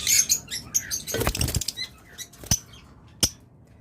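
A pair of yellow pet birds flutter their wings close by in quick, papery bursts. A denser flurry comes in the middle, and a few isolated flaps and taps follow.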